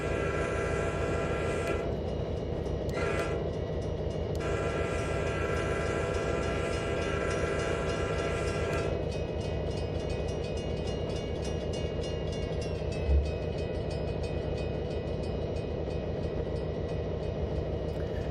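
Metra diesel locomotive in Train Simulator Classic idling along in notch 1, a steady low engine drone with rail rumble, overlaid by a long sustained horn blast that cuts off partway and then fades, continuous and fairly loud.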